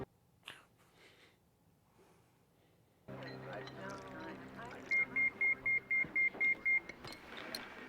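Pager beeper going off in a 1990s TV drama scene, a run of about eight short, evenly spaced electronic beeps, loud and clear, following quiet dialogue and over a soft background hum.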